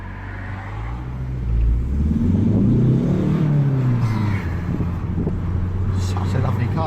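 A 2018 Ford Focus ST3 engine builds steadily into a strong, rising roar under acceleration, heard from inside the car as a continuous close drone.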